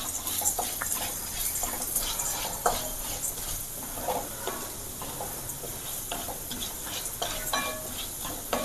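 Ingredients sizzle in a pan while a spoon stirs and scrapes, giving a soft, continuous fry with irregular clinks and scraping knocks close by.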